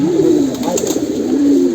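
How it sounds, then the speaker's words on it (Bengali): A flying-breed pigeon coos close by in a loft, soft throaty rising-and-falling calls repeating over a faint background hum. "এই দেখেন কবুতরটা আপনাদের কাছে কেমন লাগছে"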